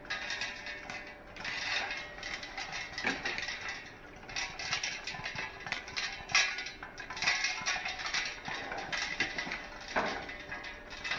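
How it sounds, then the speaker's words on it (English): A popcorn pot lifted off the stove heat, shaken hard, and set back down, producing a continuous rattling, clattering metallic scrape with irregular bursts, close and moderately loud, no voices. "Pick it up off the heat, give it a good shake, put it back down on the heat."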